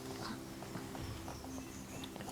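Horses' hooves clip-clopping in a fairly quick, uneven patter, faint and somewhat distant under a low background hum.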